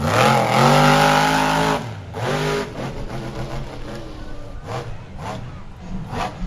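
A monster truck engine roars loud and steady at a back-to-school show, dropping in pitch, then surging and revving again as it drives back over a pink bus, with crowd noise underneath.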